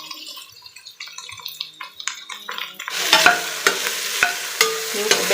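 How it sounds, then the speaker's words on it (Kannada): Garam masala and coriander leaves frying lightly in a pan with sweet corn rice, first a series of quiet taps and stirs, then a brighter sizzle with sharp spatula knocks against the pan, close and without talking. "ಈಗ ಒಂದು 2 ನಿಮಿಷ ಹೀಗೆ ಲೈಟಾಗಿ ಫ್ರೈ ಮಾಡ್ಕೊಳ್ಳಿ"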